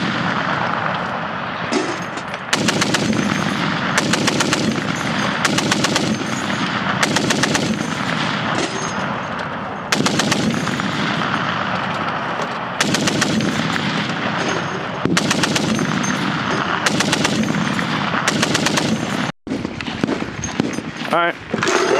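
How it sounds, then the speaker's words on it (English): Sustained gunfire from an infantry company training in 2013, firing at a sniper position: dense, loud volleys of rapid automatic and single shots in repeated bursts over about twenty seconds. "we're gonna shoot the sniper"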